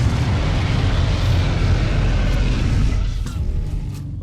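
Gunfire in the video game Ark Survival Ascended aimed at a Rex on the Ragnarok map, a loud dense continuous roar of shots and booming blasts that fades slightly toward the end.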